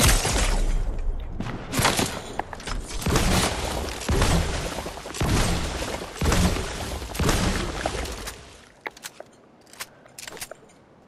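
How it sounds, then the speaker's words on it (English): Gunfire in the video game Fortnite comes in loud, dense bursts of rapid shots with short gaps between volleys, then thins out into a few scattered impacts near the end. "He's gonna realize that somebody's shooting at him."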